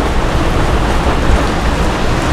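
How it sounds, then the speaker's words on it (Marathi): Rain falling outside a roadside Chinese food stall during a stop near Dapoli, a loud, dense, continuous wash of close rainfall with no talk. "आणि पाऊस पण मस्त पडतोय."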